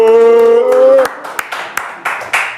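A small studio audience claps sparsely after a sustained sung or hummed note ends, with a handful of separate, fairly close claps spaced irregularly rather than full applause.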